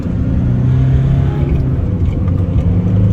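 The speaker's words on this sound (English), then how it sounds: "let's put our foot down and you'll soon see straight away if we've got power" Cheap Nissan truck accelerating hard with foot down, a loud, close, steady low engine rumble and drone building throughout, no talk.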